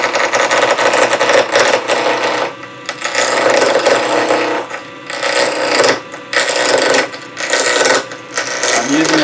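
A wood lathe turns a piece of hard ebony as a tool takes small peeling cuts, giving close, loud bursts of scraping and rasping broken by short pauses, with no talk.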